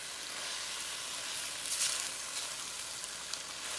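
Eggplant stir-frying in a hot wok for a Hong Kong-style dish gives a steady, soft sizzle and hiss with a few faint stirring scrapes, close and without talk.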